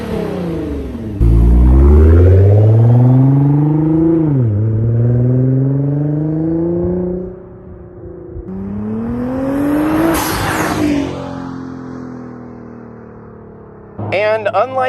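A Nissan GT-R R35 with a 4-inch Speed by Design race-spec V-band exhaust revs loud and close, climbing and dropping through several pulls with a crackling burst in the middle.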